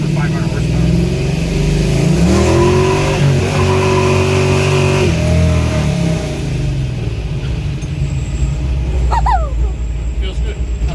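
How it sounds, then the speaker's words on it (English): A 500-horsepower car revs hard and rolls along with a loud, close engine roar that rises and shifts in pitch, while people talk over it. "You did a burnout."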